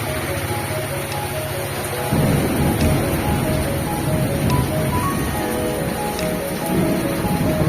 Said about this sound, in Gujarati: તમે જોઈ શકો છો લાઈવ વરસાદ આવી રહ્યો છે.